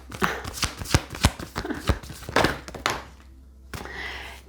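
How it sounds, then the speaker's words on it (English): A deck of tarot cards is shuffled by hand, a quick series of crisp riffles and soft thunks of cards being tapped together, close and fairly loud with a short pause near the end. "Let's stop and let's just shuffle."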